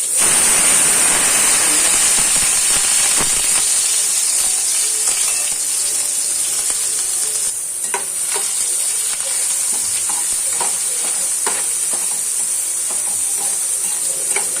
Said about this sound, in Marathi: याच्यात आपण 2 टीस्पून तेल ॲड करू। थोडे जिरे, थोडी मोहरी,